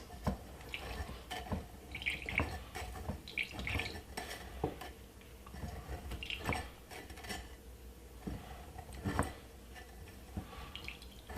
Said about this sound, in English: Put the ginger right inside of it in the strainer and strain it out like this.